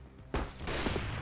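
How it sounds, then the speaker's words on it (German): Gunfire in the video game CS:GO, a sudden burst of shots that breaks out of quiet and keeps going as a dense, loud, sustained rattle for about a second. "Oh, Mystical, schlechter Schuss."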